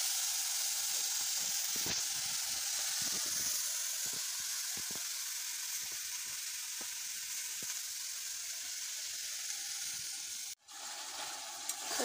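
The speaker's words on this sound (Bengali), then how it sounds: "অল্প জল দিয়েছি মশলাটি ভেজে জন্য" Spice paste fries with a little water in a pan, giving a steady bright hiss and sizzle throughout, broken by a few soft scrapes and a brief dip near the end.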